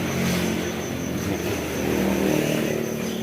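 A new Honda Vario scooter engine runs nearby with a steady, slightly rough hum. The scooter has a cooling fault: it loses radiator coolant quickly, its temperature light glows red, and it runs rough when hot. No one speaks over the engine.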